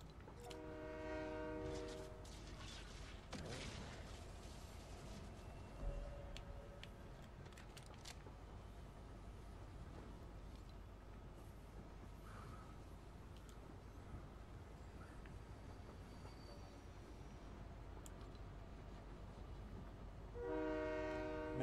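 Video game train rolling along with steady low rumble and rail clatter, a bright horn sounding at the start and again at the end, no talk heard.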